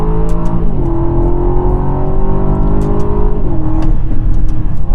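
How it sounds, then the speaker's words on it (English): A 2021 Aston Martin DBX in sport mode on a mountain drive, engine droning loud and close with rising revs and quick paddle-shift drops in pitch, a few sharp clicks on top. "as soon as you hit the paddles, man, you're in the gear change, and the sound is just awesome in this sport mode"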